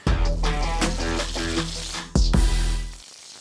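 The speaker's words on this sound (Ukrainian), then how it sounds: "Потрібно промити тепер ось ці баклажани." Tap water runs steadily, splashing over salted eggplants being rinsed in a kitchen sink, with a brief break in the flow just after two seconds before the stream resumes and then cuts off.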